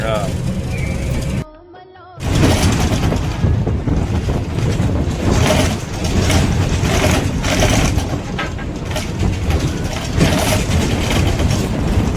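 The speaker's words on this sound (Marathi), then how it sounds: "थोडंसं आपल्या शरीराला आराम मिळावा या दृष्टिकोनातून लोकल बसने आम्ही चाललेलो आहोत" A local state-transport bus rumbling along on a rural route, with a steady low engine drone and road and wind noise filling the cabin. It cuts out briefly near the start, then continues without speech.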